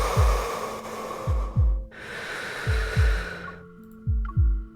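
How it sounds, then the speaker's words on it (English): Loud, close heartbeat in the Love and Deepspace game, thumping in paired beats about three times over a soft musical hum, with no talking. "The heartbeat is so loud."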